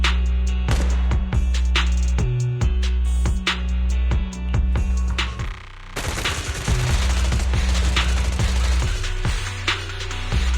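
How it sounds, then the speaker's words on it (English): Rapid suppressive marching gunfire from the Zenless Zone Zero video game: dense, loud bursts of automatic shots in a steady rhythm, briefly thinning before a heavier, continuous volley resumes. "Gunfire? This pattern. Suppressive marching fire."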